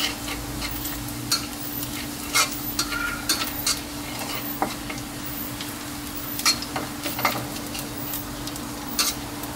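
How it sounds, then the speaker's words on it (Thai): Garlic frying in a pan with minced pork, a steady close sizzle broken by repeated utensil scrapes and taps against the pan at an uneven pace, no talking. "เราเจียวให้กระเทียมเราเหลืองหอมนะครับเสร็จแล้วเราจะตามด้วยหมูสับนะครับ"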